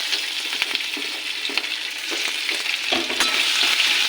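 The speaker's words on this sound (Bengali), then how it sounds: "5 ফোড়ন ফুটে এসছে" Panch phoron and ginger spluttering in hot oil, a loud close crackling sizzle with small popping bursts and stirring scrapes throughout, no talking.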